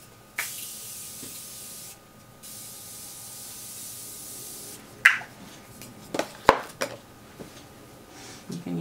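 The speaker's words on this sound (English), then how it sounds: "Okay, the last thing we have to do is setting spray." Makeup setting spray misted onto a face in two long, steady hissing bursts, close and fairly loud, followed by a few soft clicks and handling knocks with no talk.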